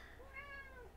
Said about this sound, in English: As Phoenix just keeps meowing.